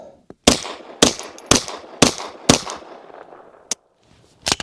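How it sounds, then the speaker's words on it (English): A SAR9 pistol fitted with a suppressor fires subsonic 147 grain rounds: five sharp, loud reports spaced about half a second apart, then a pause and two more shots, each followed by a quick decaying tail. "Let's shoot some more of them. All right, let's get 5 more rounds of these subs."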